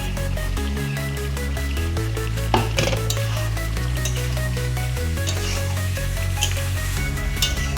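Paneer cubes frying in a pan for a potato and onion sabji, with continuous sizzling and rhythmic scraping and clinking of a spoon stirring against the metal pan.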